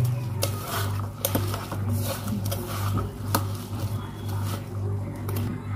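Wet, squishy kneading of bitter gourd fritter batter by hand, mixed with salt, chilli powder, turmeric and cumin into a stiff dough, giving soft patters and occasional sharper clicks against a bowl, close and fairly quiet.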